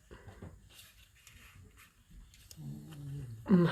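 A pet dog vocalizes in short, grumbly whines and growl-like moans, starting quietly and swelling into a louder, closer burst near the end, with faint background noise and no speech.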